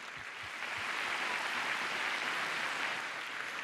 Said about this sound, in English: so just a quick round of applause.